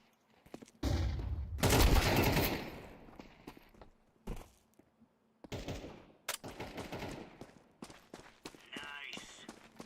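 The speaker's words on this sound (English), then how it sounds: "Flashbang." Gunfire and a flashbang grenade going off in a competitive tactical shooter video game, with loud broadband bursts and rapid shots, then a sharp blast and scattered shots and footsteps; a player talks over parts of it.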